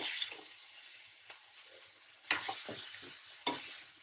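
Cauliflower pepper fry sizzling uncovered in a pan on low flame, a steady soft frying hiss broken by two sharp stirring scrapes near the middle and end.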